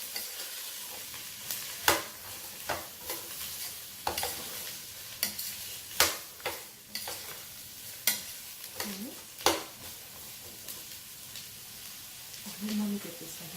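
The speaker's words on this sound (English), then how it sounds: "I'm just gonna saute it till it kind of gets translucent" Yellow onion sautéing in a pan, a steady soft sizzle broken by sharp scraping and stirring knocks at irregular intervals, recorded close with no talking.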